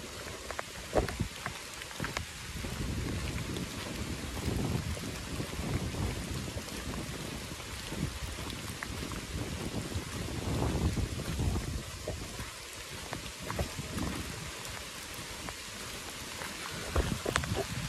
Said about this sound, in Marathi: आणि त्यात रिमझिम पाऊस पण पडतोय, तर अजून भारी वाटतंय.